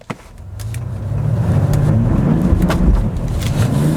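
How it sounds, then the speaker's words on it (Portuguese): A Mercedes-Benz GLE 400d diesel engine pulls away from a stop at full throttle, its roar building quickly and holding loud and close after a brief click at the start. "Parar aqui no meinho e vamos sair dando motor total"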